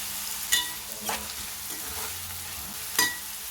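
Onion pieces with a little salt frying in oil in a pan for a dried-fish and egg curry, a soft steady sizzle broken by a few sharp stirring scrapes, close and moderately quiet with no talking.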